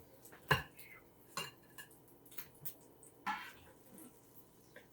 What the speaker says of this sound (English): I'm actually going to put both halves on this same plate